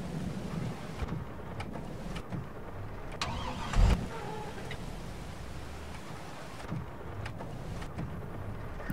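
A tractor engine starts in Farming Simulator 22, a brief mechanical crank and catch followed by a steady low engine rumble with some wind-like noise.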